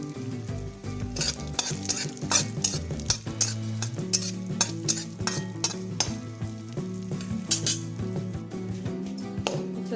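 Cashews, almonds and raisins roasting in ghee in a pan, with a steady soft sizzle under frequent metal spatula scrapes and clinks against the pan, close and busy throughout, no talk.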